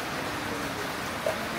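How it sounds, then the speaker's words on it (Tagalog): Heavy rain pours steadily during a typhoon in El Nido, Palawan, a continuous broadband wash of falling water with no talking over it. "Lakas pa rin ang ulan guys"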